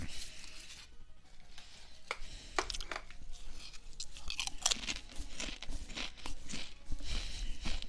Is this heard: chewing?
yes